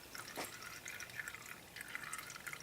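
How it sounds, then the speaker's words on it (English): Coolant drains from a Kawasaki Vulcan 900 Classic motorcycle held upright, a faint, steady trickle with light dripping against quiet background noise. "some more coolant is now draining out"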